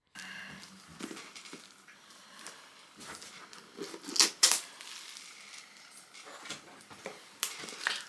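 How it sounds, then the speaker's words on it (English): A cat licks and crinkles a plastic bag close by, giving a run of soft, irregular crackling and rustling taps with a couple of louder crinkles midway. No one speaks. "my cat's licking a plastic bag again"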